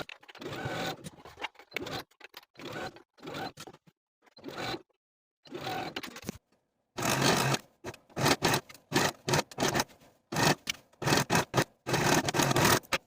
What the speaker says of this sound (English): we can sew that raglan sleeve in place from neckline to neckline with a 3/8 inch seam allowance